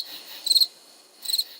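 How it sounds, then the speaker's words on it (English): A cricket chirps in two short, high, pulsing trills separated by a brief pause, standing alone against a near-silent background. "I wish I could make that cricket sound"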